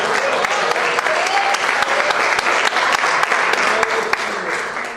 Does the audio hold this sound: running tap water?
no